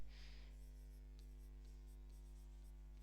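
Writing on a board during a chemistry lesson, with a brief scratchy stroke followed by faint intermittent taps over a steady electrical hum.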